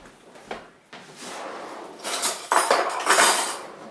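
A metal tablespoon clinks and scrapes against a dish while making manicotti shells, with a few sharp taps followed by louder rattling and scraping near the end.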